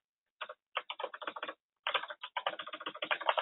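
Keys clatter on a computer keyboard in two quick bursts of typing separated by a short pause, close and clear with no talk over them.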